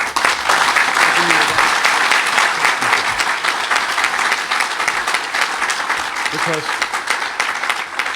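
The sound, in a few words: audience applause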